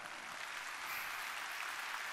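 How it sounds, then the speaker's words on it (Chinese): A studio audience claps steadily and continuously at a Chinese competition show, a dense even wash of applause with no talking over it. "一个最热烈的掌声哦"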